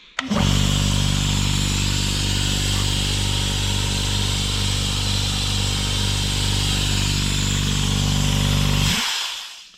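GeoTech S-AC-50V-10-15C twin-motor silent oil-free air compressor starts abruptly, runs with a steady, even motor hum and buzz for about nine seconds, then shuts off, close and alone.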